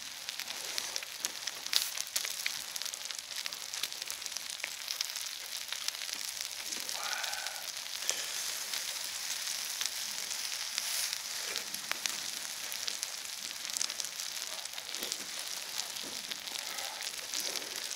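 Pork belly sizzles steadily on a stone plate over a wood fire, a continuous crackling fry that stays at an even level throughout with no talk.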